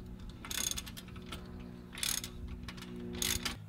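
Ratcheting 19 mm sockets tighten bolts on a dual steering stabilizer for a 2017-2019 Ford F250, three short bursts of quick metallic clicking, close and fairly quiet, with a low hum between.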